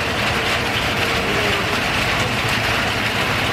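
Steady rain at a railway level crossing on the Srowot–Jogja line, a dense continuous hiss that stays even and loud throughout, with no distinct train passing.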